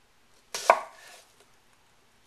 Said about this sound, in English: let's start with cleaning up and cutting up the vegetables, and we'll start with the onion